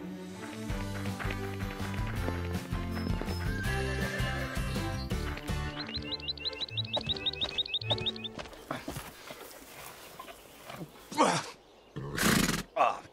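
Cartoon horses gallop in a quick, even rhythm over a busy music score, followed by a few loud whinnying bursts near the end.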